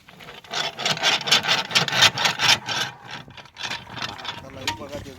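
A bore casing machine grinds horizontal holes into a bore casing pipe in hilly terrain. The rasping, sawing noise comes in loud, rapid bursts that repeat, then turns more uneven and fades toward the end.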